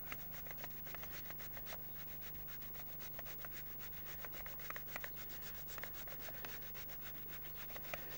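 Courgettes are rubbed rapidly across a fine grater, producing a fast, even run of close scraping strokes with no voices.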